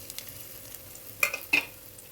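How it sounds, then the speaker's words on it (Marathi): Onion, garlic and ginger are stirred in oil left over from frying potatoes for a dhaba-style dum aloo masala, with two short, close scraping bursts over a faint, quiet sizzle and no talking. "कांदा छान परतून घ्यायचा"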